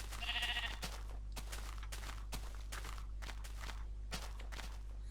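A Minecraft sheep gives a short bleat right at the start, then a run of crunchy in-game footsteps follows at a walking rhythm over a constant low background hum.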